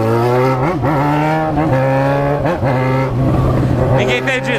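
A motorcycle engine revs hard at a crowd gathering by a lake, sustained loud buzzing with repeated throttle blips and rising pitch, other engines and voices mixed in close.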